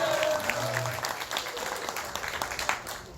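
Moderately faint applause from an audience at a conservative political talk show event, scattered claps and crowd noise that gradually thin out, with some speech mixed in.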